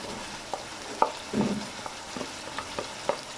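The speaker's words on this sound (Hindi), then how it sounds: "इसे भी 1 मिनट के लिए भून लेंगे।" Potatoes frying in a pan with ginger paste and green chili added, giving a soft, low sizzle broken by scattered stirring clinks and scrapes, no voices.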